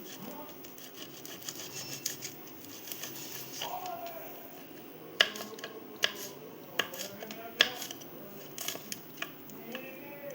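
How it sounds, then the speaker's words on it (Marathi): Green chilies being cut on a kitchen board for a spicy sev curry, several sharp knife taps in an irregular rhythm over a low, steady background hiss. "ते आपण हिरवी मिरची कट करून घेतोय."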